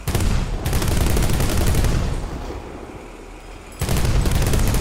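Heavy gunfire from a War Thunder tank battle with Leopard 2K tanks comes in dense, loud bursts of rapid shots that fade briefly to a lull before erupting again.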